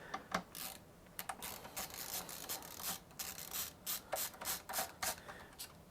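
A ratcheting screwdriver backs screws out of a PS5 Slim console during a repair, giving rapid, quiet clicking bursts in uneven clusters, close up with no talk.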